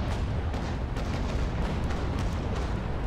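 Cannons on a sailing frigate fire in Naval Action, with heavy continuous booming and rumbling across the whole stretch, loud and close with no talking.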